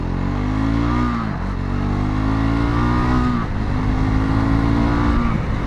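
A Triumph Scrambler 400 X motorcycle engine revs up and holds high, loud and close, with a couple of dips between sustained, steady runs and no talk.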